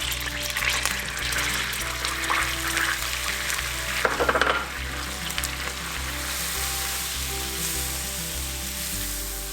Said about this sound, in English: going to stir continuously on low-medium heat